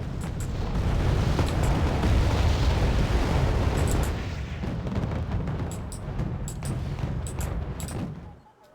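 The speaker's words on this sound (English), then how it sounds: "The grind can be supplemented through the use of howitzers like M109s, which I think we should see brought to bear over here for 2-1." M109 howitzer artillery fire in Wargame: Red Dragon: dense, rumbling barrage of booms and blasts layered continuously, loud for the first half, then easing slightly with scattered distant reports before fading out at the end.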